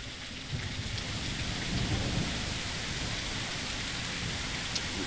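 Rain weather in a UE5 Royal Navy naval game: a dense, steady downpour hiss over a deep rumbling low end, with faint scattered drop ticks, continuous and free of speech.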